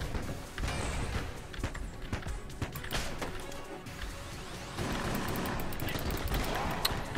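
Rapid bursts of enemy gunfire in the bullet-hell game Enter the Gungeon, dense overlapping shots and impacts continuing steadily throughout against busy game audio.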